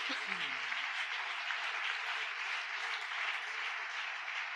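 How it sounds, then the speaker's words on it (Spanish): Church congregation applauding during a Spanish-language sermon, a steady, soft wash of clapping heard at a distance, continuous for several seconds. "Démosle un aplauso al Señor"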